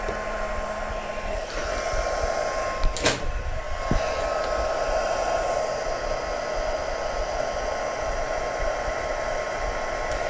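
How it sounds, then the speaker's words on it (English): A heat tool blows a steady, loud hair-dryer-like rush over puff paint on a handmade card, running continuously with one brief knock partway through and no talking. "The heat tool is what makes it puff."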